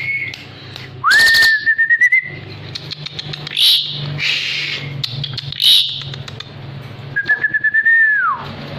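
A caged Javan pied myna (jalak suren) sings loud drawn-out whistles and bright chirps up close, with short pauses between phrases over a faint low hum.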